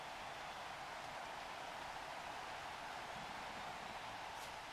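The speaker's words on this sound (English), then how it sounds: "So it's raining" Rain falling on a Blood Bowl 3 match, a faint, even hiss of steady rainfall that continues unbroken throughout.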